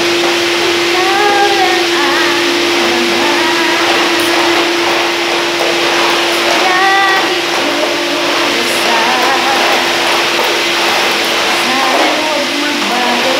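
A vacuum cleaner runs with a loud, constant whine, filling the room without pause. A voice sings or talks over it in a home setting.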